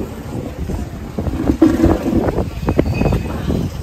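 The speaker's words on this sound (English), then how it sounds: "Nice breeze." Breeze buffeting the microphone on a pier on Lamma Island in Hong Kong, a steady rumbling wind noise with louder gusts and faint water sounds beneath, no talk.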